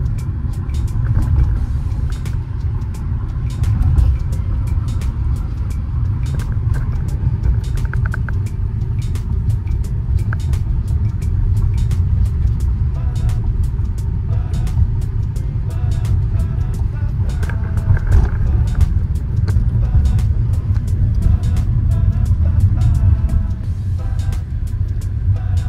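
A car drives at night along Marine Drive in Mumbai with a steady low rumble of engine and road noise throughout, a driver talking over it.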